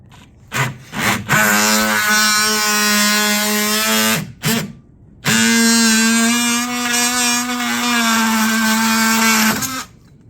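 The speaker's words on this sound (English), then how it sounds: "But it says cordless oscillating multi-tool." A cordless oscillating multi-tool cuts into a wooden door jamb in two long, loud buzzing bursts, a steady high-pitched whine with short gaps and clicks between runs.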